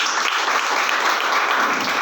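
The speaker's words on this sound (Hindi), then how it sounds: "एक बार जोरदार तालियां सभी के लिए।" An audience at a Hindi-language business plan presentation breaks into loud, dense applause, a steady wash of clapping from many hands throughout the short burst.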